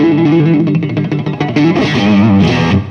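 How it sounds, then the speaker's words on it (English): A heavily distorted '50s Stratocaster electric guitar through a simulated AC30 amp plays a short chordal phrase, loud and saturated with amp-like crunch and sustain. "I'm already hearing a lot more distortion."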